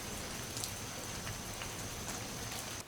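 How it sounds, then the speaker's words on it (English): Steady rain falls outdoors in a garden, giving a dense, even hiss with scattered drop patters that stays constant and close. "Oh, I'm so thrilled we got some rain."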